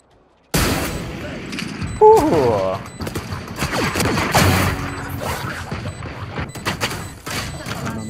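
Gunfire in the tactical shooter game Valorant, a sharp burst of shots and impacts followed by scattered cracks and thuds, with a player talking over the action.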